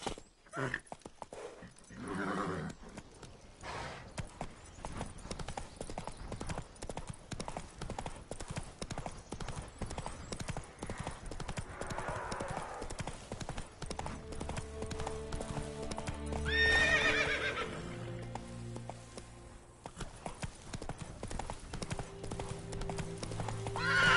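Horse hooves clip-clop in a steady rhythm in a video game, with a loud neigh rising partway through and faint voices in the background.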